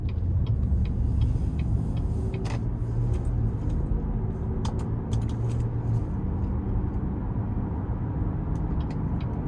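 Inside a 2018 Buick Enclave Premium with a V6 and 9-speed, driving along, a steady low rumble of engine and road noise fills the cabin with faint clicks and rattles, no one speaking.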